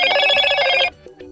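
Ringtone from a Motorola Moto E40 phone, a bright electronic ring pattern of rapid repeated tones lasting just under a second, loud and close, then cut off, leaving a couple of faint short tonal blips.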